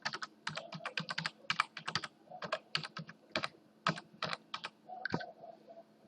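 Rapid keystrokes on a computer keyboard while an email address is entered into a PC software setup screen, irregular bursts of close, crisp clicks with short pauses, no talking.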